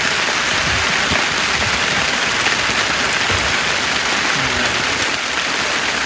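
Steady, dense rain falls at a fishing spot in a continuous loud hiss of drops hitting the surface, unbroken from start to finish.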